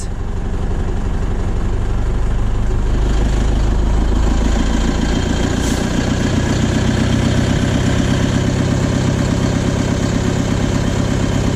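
A DAF LF truck's diesel engine idles steadily and loud up close, a dense continuous rumble with a faint shift in tone partway through, running with a completely blocked EGR valve.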